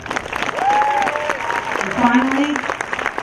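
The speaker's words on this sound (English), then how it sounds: "they deserve a big round of applause" Audience applause at the Hoboken High School Class of 2015 graduation ceremony, a steady wash of clapping running under a speaker's voice at the podium.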